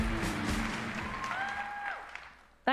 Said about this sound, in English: you'll get a round of applause anyway